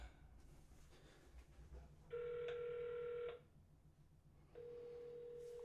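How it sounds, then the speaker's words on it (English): An iPhone 6 rings with an incoming call, giving two steady electronic tone bursts about a second long each, separated by a pause, over a quiet room hum. "So I'm going to go ahead and turn off the last light here and make another phone call."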